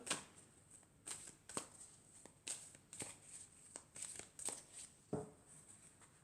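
Oracle cards shuffled by hand during a tarot-style guidance reading: a quiet, close series of crisp card slaps and riffles at an irregular pace, about a dozen distinct hits.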